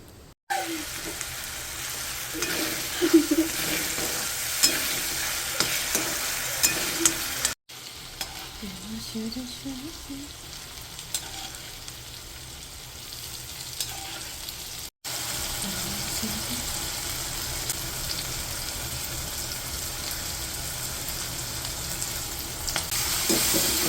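A vegetable curry sizzles and fries in a pan on a home stove, a quiet continuous crackle with occasional stirring scrapes that continues for over twenty seconds.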